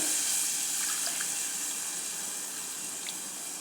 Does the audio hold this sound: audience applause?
no